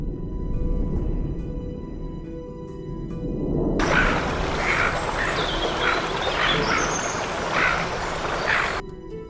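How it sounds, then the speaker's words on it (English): Muscovy ducks give a run of repeated calls in a rapid, uneven rhythm, loud and close over steady background noise, beginning a few seconds in and continuing almost to the end. "Muscovy ducks have infiltrated urban areas, expanding their range and impact."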